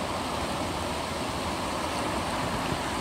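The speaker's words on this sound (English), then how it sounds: "But look at this awesome little waterfall over here." A small waterfall flows steadily in a wooded natural setting, giving a constant close wash of splashing water with no pauses and no voices.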